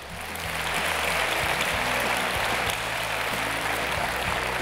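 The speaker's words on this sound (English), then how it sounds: "Everybody clap it up" A crowd claps steadily and loudly, sustained applause with scattered whoops or noise underneath, no speech over it.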